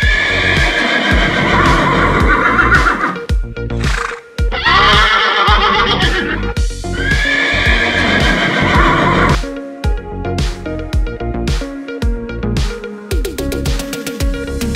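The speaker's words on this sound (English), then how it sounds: "And the sound of the horse is" A horse gives several loud, close whinnies with shrill wavering calls separated by short pauses, followed by a run of sharp clip-clopping hoofbeats on a hard surface.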